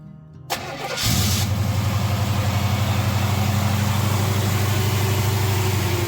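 A Chevy Nova fitted with Holley Sniper EFI cranks briefly and fires up, then settles into a loud, steady, rumbling idle close by.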